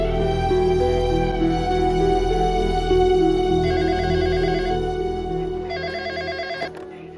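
An outgoing call to a doctor rings on the telephone, a steady, loud electronic ringtone with repeating warbling bursts over a sustained tone, heard alone without any talking.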